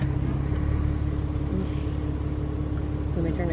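Car engine idling at a cemetery, a steady low rumble with a constant hum, close and continuous throughout.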